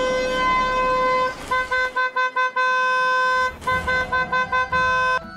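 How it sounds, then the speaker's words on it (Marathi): A car horn honks repeatedly in a road scene, first one long blast, then a run of short rapid toots, another sustained blast and more short bursts, loud and close. "बोट चिकटून बसले काय तुझा हॉर्नला?"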